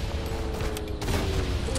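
Gunfire in the World War I shooter Verdun, a steady dense rumble of rifle and artillery fire with booming bursts, heard continuously at moderate level without talk.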